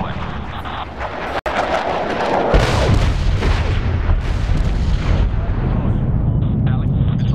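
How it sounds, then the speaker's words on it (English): Bombs exploding in the video game Medal of Honor (2010): a sharp crack, then a heavy, rumbling explosion that rolls on loudly and continuously, with aircraft noise in the background and no talk. "Bombs away."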